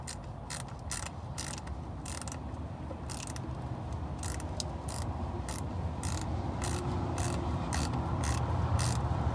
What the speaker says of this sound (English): Now that it started with a wrench, you should be able to get the ratchet on it.